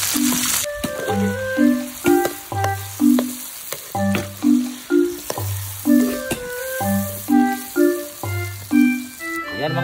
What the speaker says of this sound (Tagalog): Gisa natin yung ahos o bawang.